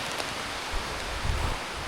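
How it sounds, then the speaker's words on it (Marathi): Heavy monsoon rain falling steadily, a dense, even hiss of drops close around, loud and unbroken with no voices. "पाऊस आला आहे"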